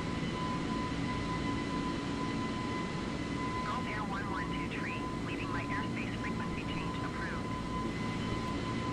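Airbus airliner engines in Microsoft Flight Simulator 2020 drone as a steady, loud broadband roar with a constant tone throughout, while a voice speaks over it in the middle.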